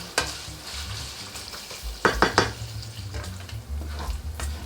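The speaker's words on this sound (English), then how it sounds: "Now we're going to increase the heat to medium high, and we're looking for a crispy bacon here." Bacon fries in a pan over medium-high heat until crisp, a steady close sizzle with scattered pops and louder bursts of crackle as the strips are stirred, no talk.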